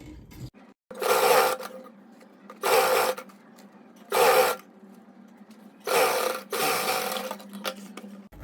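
A sewing machine stitches a shirt collar in four separate runs, each a steady whirring burst of one to two seconds with short quiet gaps between them. The machine is close and moderately loud, and no one speaks.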